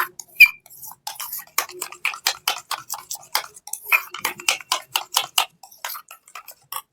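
A spoon beats milk into a thick batter for sweet red curd, making a fast run of sharp clinks and taps against the bowl in a steady rhythm, close up with no talking.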